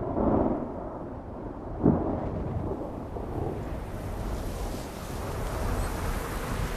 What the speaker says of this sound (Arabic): بين شهري يونيو وسبتمبر تهب العواصف الموسمية قادمة من الكاريبي